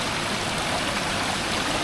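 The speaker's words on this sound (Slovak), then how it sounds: "vodopády." Cascading waterfalls in a back garden in Kuala Lumpur, Malaysia, a dense, steady rush of splashing water that fills the scene evenly from start to finish, with no voices.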